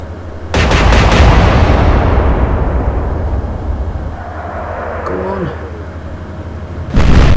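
Naval gun salvo in the Atlantic Fleet game, set in an alternate Battle of Jutland: a loud, booming blast with a long rolling decay, then a second blast near the end. A faint ringing tone sits in the tail.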